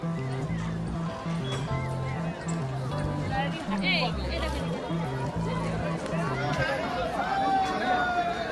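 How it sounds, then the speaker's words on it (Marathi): Crowd of visitors gathered at the entrance to the Udayagiri caves in Bhubaneswar, Odisha, a steady outdoor murmur of many voices with scattered calls, close and continuous throughout. "तर या बाजूला ही जी गर्दी दिसत आहे ही उदयगिरी केव्जमध्ये जाण्यासाठी आहे"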